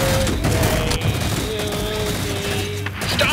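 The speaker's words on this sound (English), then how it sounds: "Why are we shooting off fireworks?" Gunfire in the Red vs Blue video game series, a sustained loud fusillade of overlapping shots and booms with no clear gaps.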